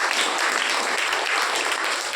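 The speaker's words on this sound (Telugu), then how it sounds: "అన్నోళ్ళందరూ చప్పట్లు కొట్టండి" Church congregation at a Saturday evening prayer meeting claps together, a dense, even wash of applause lasting a couple of seconds, close and loud.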